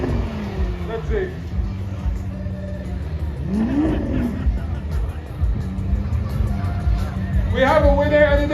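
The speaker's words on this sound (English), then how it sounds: "The Aventador just sounds absolutely magnificent" Lamborghini Aventador race car engine at Brands Hatch during a GT World Challenge Europe race, rising revs and passing engine note over a loud crowd murmur and speech, with a sharp rev swell midway and another near the end.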